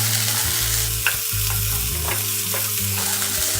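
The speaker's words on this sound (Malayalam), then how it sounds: "നന്നായിട്ട് വഴറ്റുക." Onion, beans, carrot and green peas sautéing in a pan over high heat, a loud, continuous sizzle with occasional scraping stirs, heard close up and with a low steady hum from the stove underneath, no voices.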